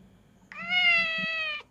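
A domestic cat gives a single long, clear meow at close range, with only faint background noise around it.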